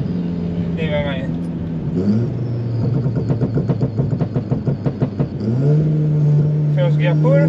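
A tuned 510 bhp Audi S3 8V pulls hard in first gear, its engine revving up in a rising roar with a fluttering, stuttering note mid-pull before settling; loud and close, with a voice speaking briefly at the start and end.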